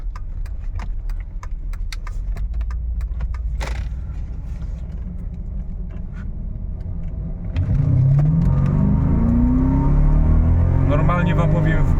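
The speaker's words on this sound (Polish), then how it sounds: "ale chodzi o samo przyspieszenie tego auta" A Mercedes W124 E420 V8 engine idles with some rattling, then revs hard as the car accelerates, the engine note climbing loudly through the gears.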